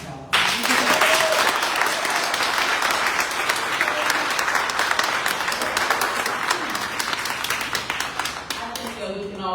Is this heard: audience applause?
yes